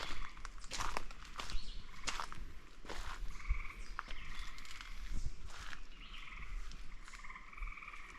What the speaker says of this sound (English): There's hundreds of frogs in that bog.